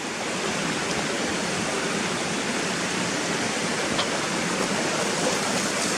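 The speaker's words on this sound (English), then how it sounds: "you see the water coming pissing down the hill" Water rushing down a hillside in a gill on a walk: a steady, loud, broadband roar of tumbling stream water, close and continuous throughout.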